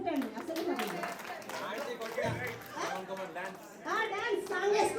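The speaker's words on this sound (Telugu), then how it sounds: "ఓకే అందరూ ఒకసారి క్లాప్స్ కొట్టండి" Guests at a sangeet celebration clap together in a brief burst of applause, heard under steady, close conversation and chatter that continues throughout.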